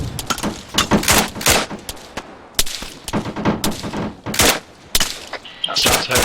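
Gunfire in a military shooter game, loud repeated bursts and single shots in an irregular rhythm, close and punchy, with brief pauses between volleys and no talk.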